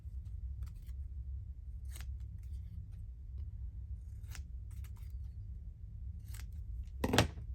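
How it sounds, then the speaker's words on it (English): Scissors snip through grey paper during a crafting session, a handful of short, crisp cuts spaced apart over a quiet background, ending in one louder snip. "Let's just cut one of these"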